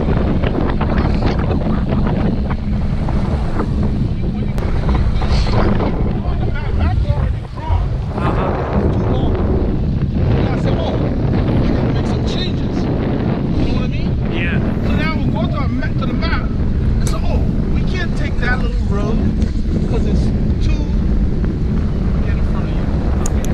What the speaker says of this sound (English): it's very windy, so I grabbed the bars because it's blowing it